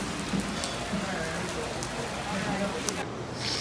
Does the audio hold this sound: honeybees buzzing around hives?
no